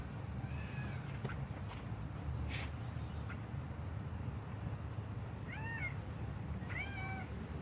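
A cat meows a few times, short rising calls spaced apart over a quiet low background hum.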